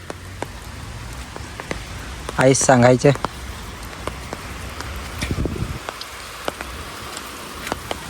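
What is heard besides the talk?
rain falling on drying rice crop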